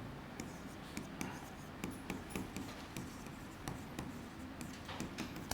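Chalk or pen writing during a classroom lecture on educational psychology, heard as quiet, irregular scratchy taps and strokes over a soft room hum, with no talking.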